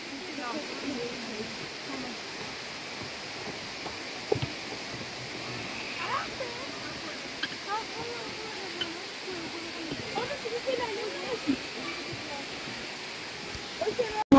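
Erfelek Tatlıca waterfall in a forest near Sinop, Turkey: a steady, even rush of falling water fills the scene, with a few faint brief sounds over it.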